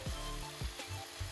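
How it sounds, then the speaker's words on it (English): Potatoes sizzle and fry steadily in a pan, a continuous close crackle with a few soft bumps of stirring, no voices. "our potatoes have been frying up"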